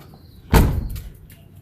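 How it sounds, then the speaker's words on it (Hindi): A Toyota HJ61 car door shuts with a single solid thud, followed by a brief rattling tail and quiet outdoor background. "बच्चों के साथ ना गाड़ी का दरवाज़ा बड़ा एहतियात से बंद करना पड़ता है"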